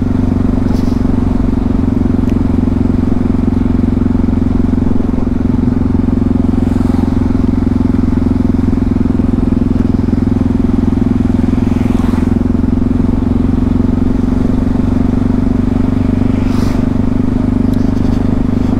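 Yamaha MT-03 660 motorcycle ridden with a baffle fitted in the exhaust, giving a loud, steady engine drone with a rumbling exhaust note and wind rush that holds throughout.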